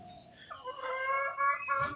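Chickens cluck and call close by in short, throaty bursts, with a slightly louder squawk near the end and no talking.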